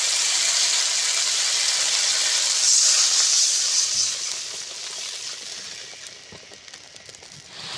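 Water poured onto fried spice paste in hot oil for a Bengali kofta curry gives a loud, close, steady hiss of steam that slowly fades over several seconds.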